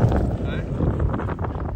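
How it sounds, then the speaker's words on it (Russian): Strong wind buffets the microphone on open water aboard a small homemade catamaran paddle boat, a loud, continuous low rumble and roar with a voice talking faintly beneath it. "Нет, тут ветер уже сильный."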